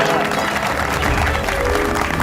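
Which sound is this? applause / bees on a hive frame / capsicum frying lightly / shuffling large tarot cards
applause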